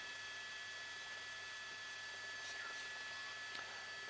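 A news helicopter hovers over a police pursuit, its rotor and engine making a steady, faint drone that stays even throughout with no talk over it.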